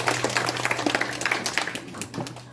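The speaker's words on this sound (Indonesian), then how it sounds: "Tepuk tangan lu untuk Tera." Scattered clapping from a modest audience after a student's presentation at a high school, a patter of individual hand claps, fairly close and tapering off near the end.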